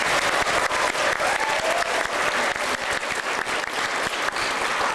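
A room full of people at a wish event breaks into a dense, sustained round of applause, loud and even for the full five seconds, with no talking.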